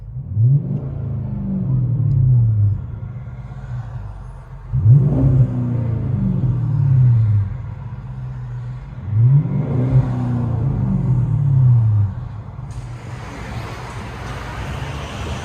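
A 2007 Chrysler 300C with a 5.7L HEMI V8 and aftermarket exhaust, heard from inside the cabin: three deep, rumbling revs rise and fall in turn, muffled and steady between pulls, ending in a softer drone.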